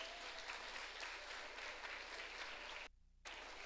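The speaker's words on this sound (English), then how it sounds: "Yes, clap. We thank you." Concert audience at a high school spring concert clapping steadily, a dense, even wash of applause from a crowd that drops out abruptly for a brief moment before resuming.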